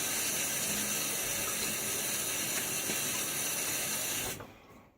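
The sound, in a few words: water splashing while wetting face for a shave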